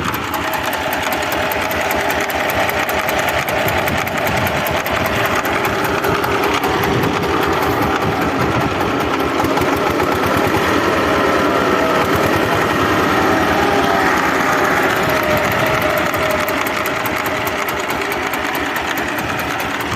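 A Lider 220 mini tractor engine idles close by, a steady, rapid mechanical chugging with a faint knocking running through it, unbroken for the whole stretch.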